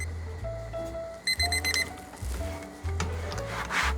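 A kitchen timer goes off with a short burst of rapid electronic beeps over low hum and rubbing noises, while grilled cheese cooks nearby.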